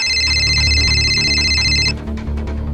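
A phone rings with a bright electronic trill for about two seconds, then stops, leaving low background noise and soft clicks.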